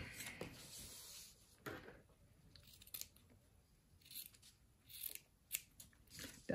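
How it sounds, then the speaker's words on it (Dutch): Scissors snipping the corners off fabric for a sewing-machine-made 3D face mask, several short crisp cuts with soft rustling of cloth in between, close and quiet. "Deze hoekjes gaan we alle vier eraf knippen."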